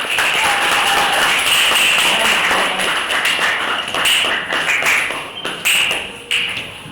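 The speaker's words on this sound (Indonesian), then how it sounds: "Tepuk tangan untuk kelompok 1" Classroom applause for a student group during a teaching practice session: a dense, steady patter of many hands clapping throughout, slightly thinning toward the end, with faint voices underneath.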